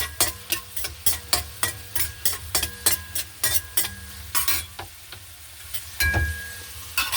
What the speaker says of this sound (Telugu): ఆయిల్ వేసాను, ఉల్లిపాయలు వేసాను.